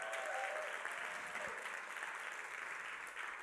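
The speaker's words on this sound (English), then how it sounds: "You should clap your hands and shout right there." An audience at a New Year's Eve church service claps and cheers in a steady wash of applause that sounds fairly distant and quiet, with no talking over it.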